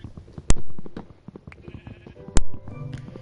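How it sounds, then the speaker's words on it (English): Sheep in a survival sandbox video game give two short, loud bleats, one near the half-second mark and another about two seconds later, over low game-world background sounds and no talk. "I'm killing some sheep. Because I need some wool."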